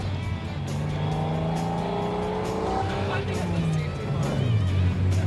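A restored Maserati's engine roars loudly and steadily, its pitch rising and falling as it revs and pulls away, with tire noise and voices mixed underneath.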